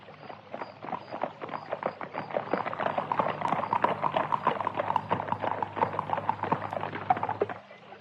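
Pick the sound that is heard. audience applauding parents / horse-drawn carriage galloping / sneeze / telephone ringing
horse-drawn carriage galloping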